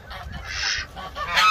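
A Çorum goose honks several times in quick succession, loud and close, with harsh nasal calls and no talking.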